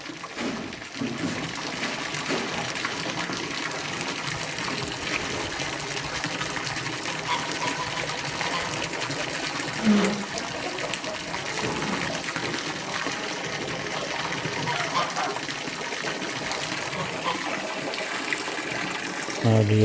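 Water gushes from a garden hose into a duck pool outdoors, a continuous steady splashing and pouring noise throughout, with a person speaking briefly over it.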